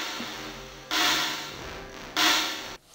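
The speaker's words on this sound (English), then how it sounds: "And then this is reverb." Two washed-out sampled hits through a Teenage Engineering EP-133 K.O. II sampler's reverb effect, with long reverberant tails that smear and linger, moderately quiet, ending in an abrupt cutoff.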